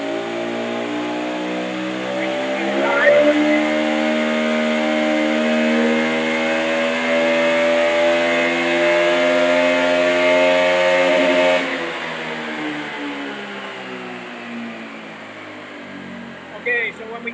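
An engine revs through a loaded pull on an inertia dyno, its steady whining tone climbing in pitch for about nine seconds before cutting back and dropping away, close and loud, with no talk.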